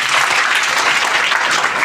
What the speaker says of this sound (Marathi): सर्वात प्रथम ज्यांनी सादरीकरण केलं त्यांच्यासाठी जोरदार टाळ्या होत्या